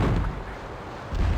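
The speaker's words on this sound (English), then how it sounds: "Time to unleash me most feared weapons. Me bottle rockets, apparently." Bottle rockets fire in the pirate video game Pirates Duel on the High Seas: loud, booming bursts at the start and end with a rumbling low tail between them, with no voices.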